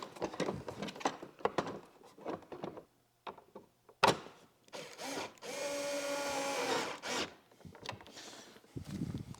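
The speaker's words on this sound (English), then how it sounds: "we're going to put the bottom screw in on each side to hold it." A cordless driver runs screws into a motorcycle luggage rack during installation: scattered handling knocks and rubbing, then one steady whirring drive burst of about two seconds, with no talk.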